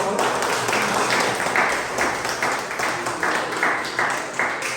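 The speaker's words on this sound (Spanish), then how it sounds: "Pero denle un aplauso, por favor." A church congregation in Santo Domingo applauds, with dense, sustained clapping in loose rhythmic waves that carries on loudly throughout.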